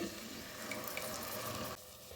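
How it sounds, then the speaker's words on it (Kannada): Tamarind soaking water pours steadily into a cooking pan while rajma curry is being made, a continuous close splashing trickle that stops abruptly near the end. "ಈಗ ಹುಣಸಿನಕಾಯಿಗೆ ನೆನೆಸಿಟ್ಕೊಂಡಿದ್ರೆ ಅದು ನೀರು ಹಾಕೊಂಡ್ರಿ"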